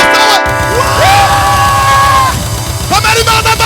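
A church congregation at a worship concert shouts and cheers to God, a loud massed roar of voices and whoops over a pulsing rhythmic beat.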